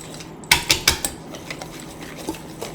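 Cake batter for coffee cake whisked by hand in a bowl: a quick run of sharp metallic clinks and taps of the whisk against the bowl, then lighter scraping strokes, close by and alone.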